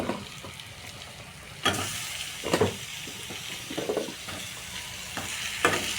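Chicken sautéing in a pan for biryani, crackling sizzle with repeated scraping and stirring bursts, including a sudden louder surge partway through, close up and without talking.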